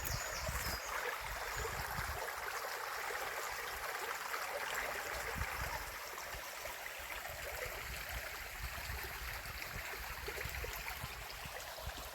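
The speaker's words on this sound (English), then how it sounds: "There is a certain magical quality to the sound of running water" A countryside stream runs steadily along a walk on country lanes, its continuous rushing and gurgling water close and even throughout with no voices.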